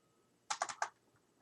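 A computer keyboard gives a brief burst of four quick, close key clicks in a quiet room, then falls silent.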